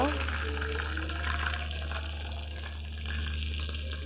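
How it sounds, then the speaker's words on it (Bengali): Chopped onion frying in a pan for a chicken curry, a steady close sizzle and crackle with light stirring and faint watery clatter running throughout. "পেঁয়াজ কুচি ছেড়ে দিব"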